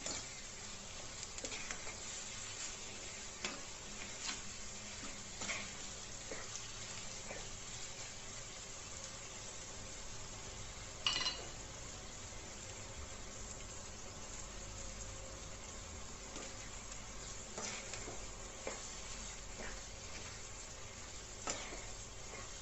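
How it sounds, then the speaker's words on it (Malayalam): Apple pieces with ghee and sugar sautéing in a pan, a steady soft sizzle with faint stirring clicks and occasional spatters, no talk. "ഇതിനകത്ത് നെയ്യും ഈ പഞ്ചസാരയും ഈ ആപ്പിളിനകത്തുനിന്ന് വരുന്ന നീരും എല്ലാം കൂടെ ഒന്ന് വഴന്ന് വരികയാണ്"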